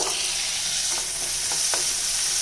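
Steady hiss of onions and tomato frying in a hot pan, with a few soft scraping strokes of stirring.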